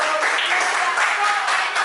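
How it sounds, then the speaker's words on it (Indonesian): Students clapping in a classroom, a short dense burst of hand claps that holds at a steady loudness for about two seconds. "Aldo tepuk tangan dulu"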